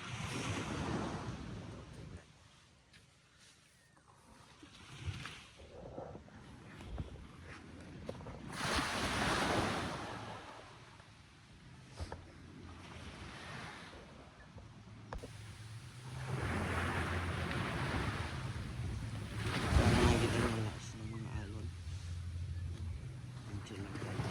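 Ocean waves break on a beach during a family vacation, the surf swelling and fading under wind noise while people talk nearby.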